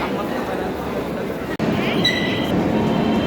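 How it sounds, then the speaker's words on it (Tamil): Garudadri train moving from Renigunta toward Chennai, a steady loud rumble of a passenger train in motion with a faint high wheel squeal near the end, heard from inside the carriage. "ரேணிகுண்டாலேருந்து ட்ரெயின் கிளம்பிடுச்சுங்க."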